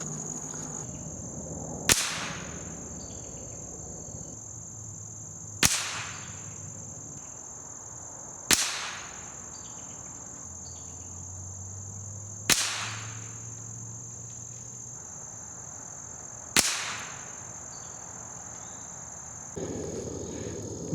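Vintage .22 rifle firing SK Standard Plus ammunition outdoors, five sharp evenly spaced cracks a few seconds apart, heard over a steady high insect chirp.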